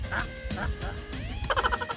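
Vultures give harsh, honking calls, several overlapping and fairly close, ending in a rapid burst of cackling notes.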